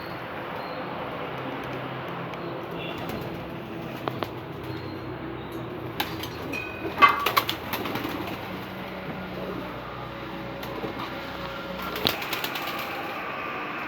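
Pigeons in their loft coo softly while being fed, faint low burbling set against scattered taps, flutters and clicks from the birds moving about, with no talking.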